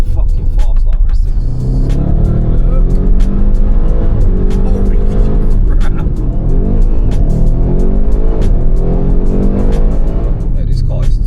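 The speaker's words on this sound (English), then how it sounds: "This is a fucking fast RS6." An Audi RS6 accelerating hard, the engine note climbing through repeated gear pulls with a loud, close roar; a voice exclaims over the engine.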